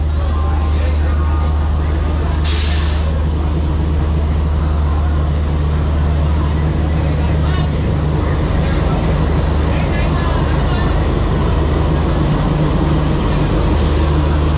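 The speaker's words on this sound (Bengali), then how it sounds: "আর এখানে ট্রেন ঢুকছে" A loud, steady low rumble of the Himgiri Express train pulling in at a station platform, continuous throughout, with a couple of brief hissing bursts near the start.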